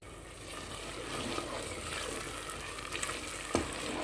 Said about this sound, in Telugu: ఇప్పుడు వేగిపోయిందండి ఇలా వేగేటప్పుడే కొంచెం కరివేపాకు వేసుకోండి